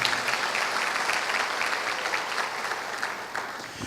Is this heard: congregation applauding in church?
yes